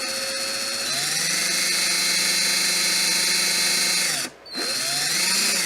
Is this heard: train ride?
no